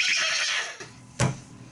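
A person imitates a horse neighing, a breathy, whinnying vocal sound that trails off and then ends in a short sharp burst, heard alone and close.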